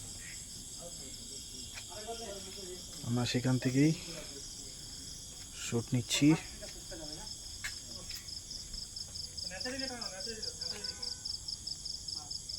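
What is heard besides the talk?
crickets chirping at night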